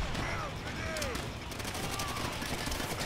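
Dense gunfire in a World at War co-op firefight: a steady stream of rapid shots and bursts runs through the whole stretch, loud and continuous, with voices talking over it.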